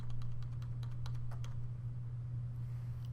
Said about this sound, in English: continue to hit delete on your keyboard